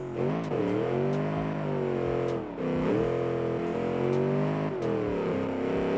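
A rear-wheel-drive stock car with a sequential gearbox in the Automation driving game, its engine revving loud and close in three rising pulls that each dip and climb again.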